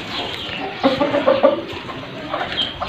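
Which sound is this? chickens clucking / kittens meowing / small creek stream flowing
chickens clucking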